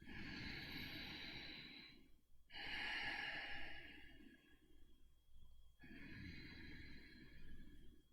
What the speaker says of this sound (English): Breathe in. Seal the lips. And breathe through the nose.